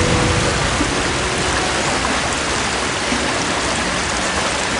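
Constant, dense roar of a cave waterfall in the 2001 Harry Potter and the Philosopher's Stone PC game, loud and unbroken, with no voices over the steady rushing water.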